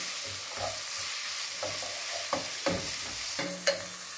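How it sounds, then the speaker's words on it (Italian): Pancetta browning in a pan for Neapolitan pasta e patate, a steady frying sizzle broken by a few sharp scrapes and stirring knocks from a utensil, close and moderately loud with no talk. "mettiamo la nostra pancetta e la facciamo rosolare"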